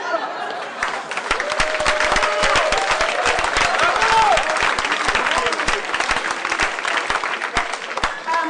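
Enthusiastic audience applause during a speaker's presentation in Germany, dense steady clapping with some cheering throughout, loud and close.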